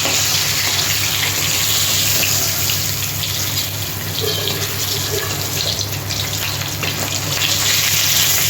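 Hilsa fish frying lightly in oil in a home kitchen makes a loud, continuous, rushing sizzle. It stays dense and even throughout, with a low steady hum underneath and no voices.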